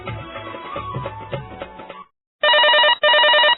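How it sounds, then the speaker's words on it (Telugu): A telephone rings in two long, loud electronic bursts with a brief gap between them, after a stretch of busier, muddled background sound. "రింగ్ అవుతుంది."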